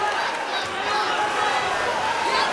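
Crowd noise at a live MMA fight, a steady loud roar of many voices with chatter, continuous throughout without distinct breaks.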